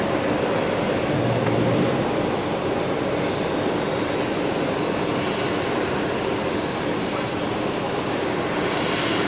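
Aircraft engine noise at Brisbane Airport, a steady broad roar holding loud and constant throughout, with a faint voice briefly audible early on.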